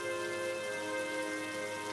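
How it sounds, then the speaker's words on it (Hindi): Heavy rain pouring down steadily on surfaces, a dense unbroken hiss that stays loud throughout, with a faint tonal hum layered underneath and no voices. "बारिश जोर जोर से हो रही है।"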